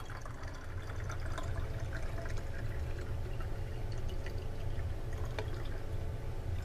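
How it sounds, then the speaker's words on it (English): Water pours steadily into a container set beside a capacitive proximity sensor, a continuous soft splashing and trickling stream heard close up with no speech. "I'm going to keep pouring water in it."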